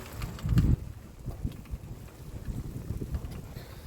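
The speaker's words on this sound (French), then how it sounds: "il y a du vent" Wind blows outdoors on a dry, rainless day, buffeting the microphone with low rumbling gusts and one stronger blast near the start, heard alone without talking.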